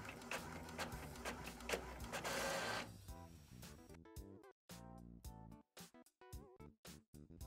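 A small home printer feeds and prints an A4 page: a steady whirring, grinding run gives way to a fast series of sharp clicking and chattering bursts from the print head moving back and forth, close up, with nobody talking.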